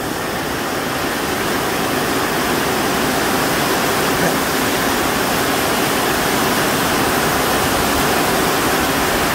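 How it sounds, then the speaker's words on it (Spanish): Heavy rain from a thunderstorm in Chalatenango pours down in a dense, unbroken roar, loud and close, with no voices. "Está cayendo otro bombazo de agua."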